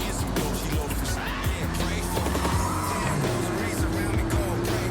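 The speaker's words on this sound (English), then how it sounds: "I do really like this car for street driving." A car driven on city streets in the video game Cyberpunk 2077, with a steady engine drone, occasional tire squeal and skidding, and faint talk underneath.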